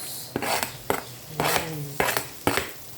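Garlic being stirred into melted butter in a pan, with about five sharp scrapes and clinks of a utensil against the pan over a soft background sizzle, close and distinct.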